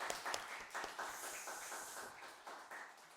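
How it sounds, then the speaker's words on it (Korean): A church congregation claps in thanks at a Sunday service, a faint, somewhat distant patter of hands rising and falling in loose bursts, with no voices over it. "하나님께 감사와 영광의 박수를 올려드립니다"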